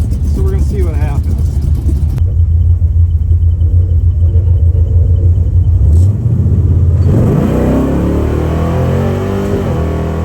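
A drag racing car making a pass at a Michigan drag-and-drive event: a loud, steady low engine rumble that surges and revs up sharply partway through, with a voice talking over it early on.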